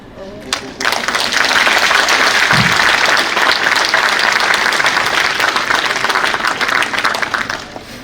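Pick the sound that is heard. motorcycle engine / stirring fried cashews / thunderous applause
thunderous applause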